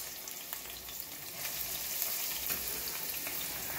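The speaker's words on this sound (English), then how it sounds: "So what I'm going to do is I'm going to add my onions." Onions and peppers fry in a caldero, a heavy metal pot, with a steady close sizzle and crackle holding throughout and brightening slightly partway, no voices over it.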